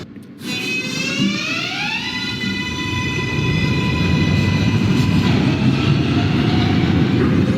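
An NYC Subway R142A train in the OpenBVE simulator pulls away, its motors whining upward in pitch and then holding a steady tone while wheel and track rumble builds, loud and close, with no talk.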